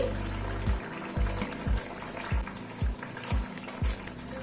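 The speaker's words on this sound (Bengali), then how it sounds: "মাছটা একটু ঝোলের মধ্যে 2-3 মিনিট ফুটে উঠুক।" Fish curry with a split green chili and chopped coriander boils in a pot, its thick bubbles bursting in a steady, low, rhythmic burble, roughly two per second, close by.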